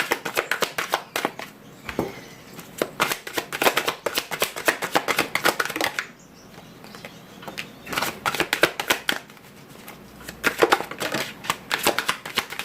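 Playing cards are shuffled over and over for a card reading, a close, crisp riffling and flicking that comes in dense rapid bursts broken by brief pauses, with nobody speaking.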